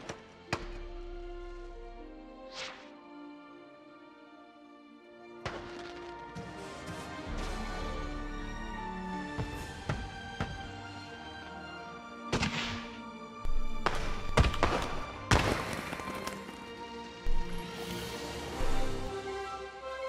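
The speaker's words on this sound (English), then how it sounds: "the fireworks are marvelous" Fireworks in the park-building game Planet Coaster pop and crack at irregular intervals, some distant thumps and others loud close bursts, growing busier toward the end over soft background music.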